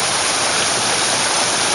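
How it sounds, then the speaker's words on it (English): A freshwater river flows along a trekking trail in Serra dos Órgãos National Park near Açu, a steady, loud, unbroken rush of water with no talking. "first river with fresh water."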